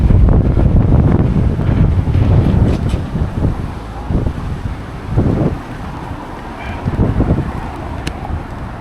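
Strong gusts buffet the microphone on a footbridge over the Manchester Ship Canal, a loud low rumble that surges and dips in waves with no talking.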